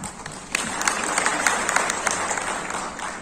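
A large crowd at a Bahujan Samaj Party workers' rally in Jaipur, Rajasthan, claps in dense, continuous applause that swells and holds at a steady level, with faint crowd noise mixed in.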